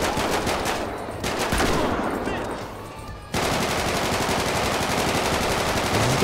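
Video game gunfire in GTA 5, dense rapid automatic bursts firing almost continuously, loud and close, with a brief lull in the middle before the shooting resumes steadily.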